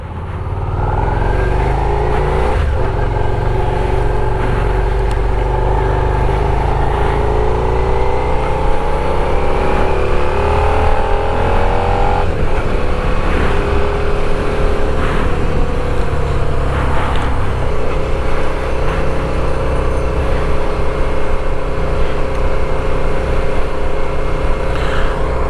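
A 2018 Suzuki SV650 motorcycle, the 2019 model year, rides along with its engine running loud and close, the pitch rising and falling through gear changes amid steady wind noise, with no talk.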